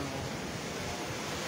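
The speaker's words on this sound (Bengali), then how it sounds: "প্রচণ্ড বাতাস বইছে" Strong wind from Cyclone Remal sweeps through Pabna, a dense, steady roar with low rumbling buffeting, continuous and fairly soft, with no voices.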